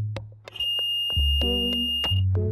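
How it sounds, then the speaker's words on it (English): A piezo buzzer on an infrared object detector circuit sounds in short, shrill steady beeps, loud and close, repeated several times with brief gaps and some clicking between. "When light sent from the transmitter is blocked, the receiver responds by sounding a piezo buzzer."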